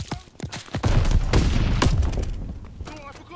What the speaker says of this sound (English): Watch the Throwing grenade!